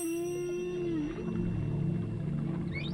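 Whale vocalization, a long tonal moan that holds steady then bends downward, followed by rising squeaky calls, heard alone against a low rumbling background.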